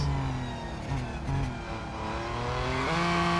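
In Real Racing 3, a Ford GT Le Mans car skids with tire squeal over a loud, continuous engine whine whose pitch shifts as it slides and then accelerates.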